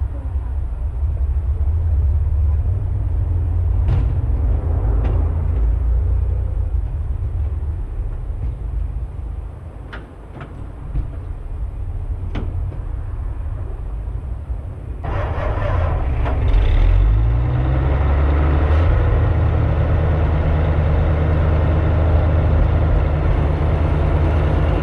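Engines run as vehicles are moved, a steady low rumble and idle that builds louder and rougher partway through as one is driven close by, with faint clanks scattered throughout.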